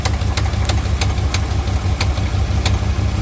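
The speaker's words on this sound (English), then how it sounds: "I believe that's the flywheel knocking." A 1982 Monte Carlo with its original 4.4 liter engine idles with a steady low rumble, close and loud, while faint regular knocks tick through it at an uneven pace.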